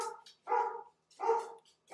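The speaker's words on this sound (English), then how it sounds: "Crazy dogs." Several sharp dog barks in quick succession, with short pauses between them, close and fairly loud, no voices.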